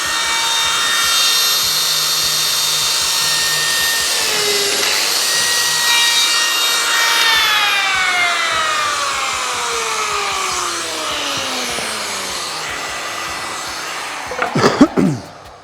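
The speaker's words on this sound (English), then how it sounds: "There is a small noise from the machine" Lamello Zeta P2 joining machine cutting a slot into wood: a steady loud motor whine with falling pitch as it spins down, ending in a few sharp clacks near the end.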